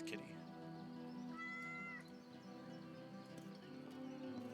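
A video game cat gives a single short meow while the player pets it, heard faintly over quiet game music and ambience.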